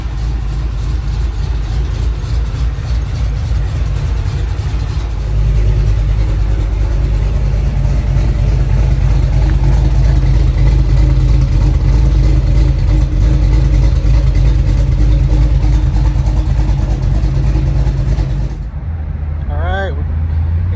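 A modified 750-horsepower Cadillac engine's first startup after a tune rumbles loudly at idle, rising into a heavier throb partway through, then drops off near the end.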